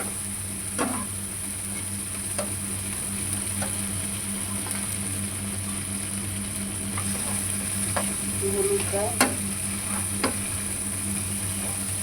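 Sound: chilli, tomato and ground cumin-ginger-coriander paste frying

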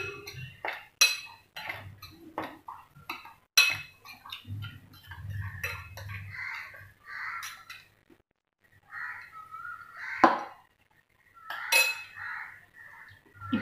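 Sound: whisking a cauliflower chilli mixture in a bowl

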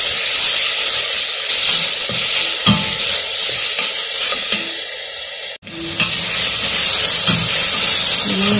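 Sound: chicken sautéing in a pot

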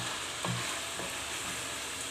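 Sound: onions and peppers sautéing in pan

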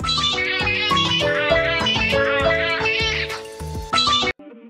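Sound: cat meowing

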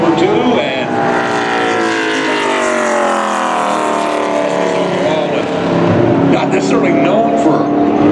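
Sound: Chevrolet stock race car passing on qualifying lap

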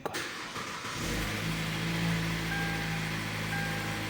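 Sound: car engine starting

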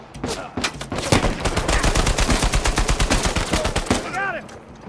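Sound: shotgun gunfire in the video game Uncharted 4

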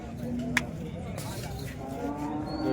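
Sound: cow at a cattle market

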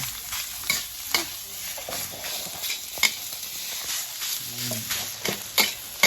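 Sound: stir-frying rice in a wok

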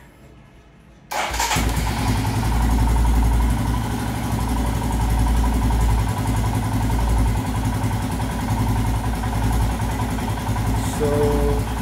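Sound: Royal Enfield Himalayan motorcycle engine idling after warm-up

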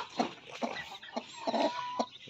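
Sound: rooster chasing another rooster, chickens clucking

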